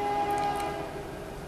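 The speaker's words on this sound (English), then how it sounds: "here comes a train." A passing train sounds its horn in sustained, steady chords over a broad rumbling wash of rail noise, loud and close, fading slightly toward the end with no talking.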